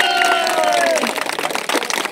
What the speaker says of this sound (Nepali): यो सबै जोरदार ताली दिन्छ